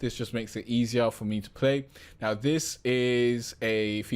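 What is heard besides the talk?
No everyday noise stands out behind the speech.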